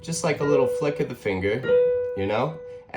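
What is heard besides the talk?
No distinct noise like a dog, phone or traffic.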